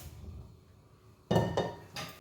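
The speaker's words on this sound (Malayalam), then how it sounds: "അടുപ്പത്ത് നമുക്ക് നമ്മുടെ പാത്രം വയ്ക്കാം" A cooking pot is set down on a stove in a home kitchen while an okra masala curry is prepared, giving a few loud, close metallic clanks and rattles after a quiet, low background.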